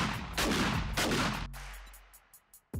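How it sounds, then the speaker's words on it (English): Two heavy blasts from a USAS 12 shotgun loaded with 12 gauge ammo in 7 Days to Die, each a loud, booming burst about half a second apart, trailing off into a fading rumble and a few faint clicks. "There's also the USAS 12 shotgun,"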